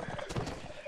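A horse in the video game Mount & Blade Warband gallops with rapid clip-clop hoofbeats and a neigh, set against busy battle noise and some voice.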